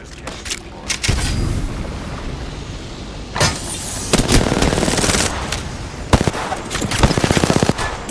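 Rapid automatic gunfire in an Apex Legends match, loud and near, arriving in several dense bursts with sharp individual shots, the heaviest volleys clustered toward the end.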